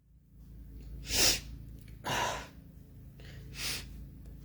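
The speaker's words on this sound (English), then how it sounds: "wow, that's a big sneeze." A loud, forceful human sneeze rings out, followed by a second burst and then a softer third sneeze or snort, each a sharp broadband blast over a quiet room background, with no talking.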